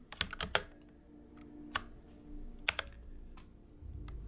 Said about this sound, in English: That noise you saw earlier was me changing keyboard layouts.